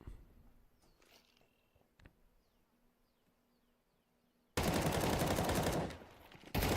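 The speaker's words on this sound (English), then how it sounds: "Not usually would you see it start of Inferno rounds where just bullets flying both ways." In a Counter-Strike 2 match on Inferno, faint game ambience gives way to a sudden dense burst of loud automatic gunfire. A brief lull follows before the shooting resumes.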